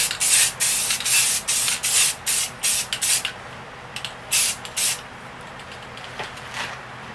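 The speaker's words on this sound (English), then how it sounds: "we're going to spray white and cover this whole section here" A spray paint can hisses white paint in a series of short, rhythmic bursts, close and fairly loud, then fades to quieter sprays.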